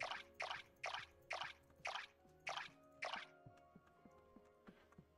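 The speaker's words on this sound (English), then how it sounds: "let's put some water in there" Seven evenly spaced watery plops ring out one after another as water is poured in the video game Core Keeper, each splash crisp and close, followed by quiet musical game tones.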